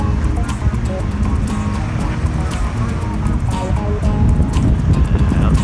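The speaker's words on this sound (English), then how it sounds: "Windy day at Point No Point." Strong wind buffets the microphone on a blustery shoreline at Point No Point, a steady broadband roar with low rumble and possible surf or boat noise underneath, continuous and loud throughout.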